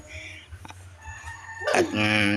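Backyard chickens mingle with a nearby rooster that lets out a loud, close crow near the end, after softer clucks and scattered bird calls over a quiet rural background.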